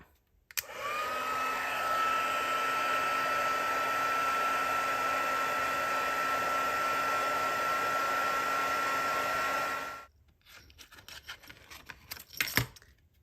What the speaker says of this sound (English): I'm actually going to use my heat tool to make sure that my wings are fully dry before I punch them out